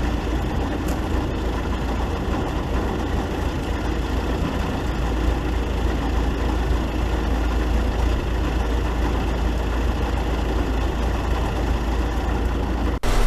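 A John Deere 6000 highboy sprayer engine runs at a steady, loud idle, with a constant low rumble throughout and no voices.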